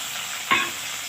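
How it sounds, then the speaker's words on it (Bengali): Chopped tomatoes frying with browned onions in a pan hiss steadily, broken by a single quick scraping stir of a spoon near the middle. "টমেটোটা নাড়বো"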